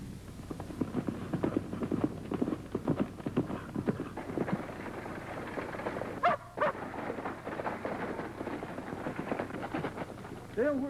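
Horses' hooves clip-clop as riders travel on horseback, a rapid, uneven drumming of hoofbeats at moderate distance, steady throughout with a brief break near the middle.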